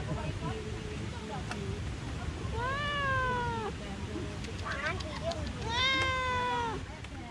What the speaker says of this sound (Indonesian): makanya kucing ini doyan sama bakwan selada air